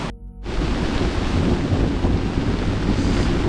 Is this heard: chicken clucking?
no